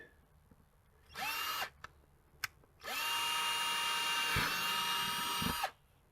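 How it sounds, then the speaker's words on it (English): A power drill whines briefly, pauses with a couple of clicks, then runs steadily for nearly three seconds while boring holes, with a slight strain before stopping. "Now, I'm gonna go ahead and drill these."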